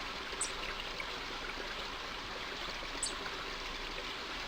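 Steady flowing water from the King's Quest 5 game soundtrack, a continuous even stream at moderate level with two faint high chimes, and no talking.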